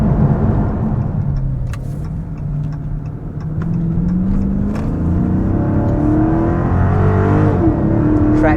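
A 2023 Chrysler 300C with its Hemi V8 accelerates hard from inside the cabin, a loud, steady engine drone rising in pitch through the gears, with brief faint clicks and no talking.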